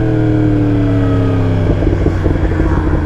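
A Yamaha R1 sport motorcycle's engine drones loud and close, then breaks into a rougher, uneven burble as it downshifts, with no voices over it.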